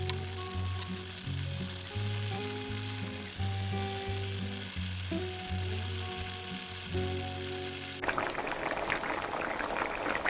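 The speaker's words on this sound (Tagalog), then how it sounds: "hahayaan po natin kumulo siya ng kumulo" Ginataang kalabasa, squash in coconut milk with mushrooms, bubbles in a pot, a soft continuous simmer under light background music that drops away, leaving a louder hissing boil.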